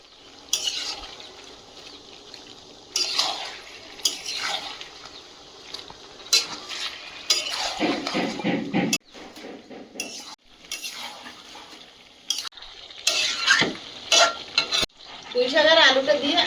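Chicken being stir-fried with ginger-garlic paste in a pot: irregular bursts of spatula scraping and metal clinks against the pot over a soft sizzle, close, with short pauses between strokes.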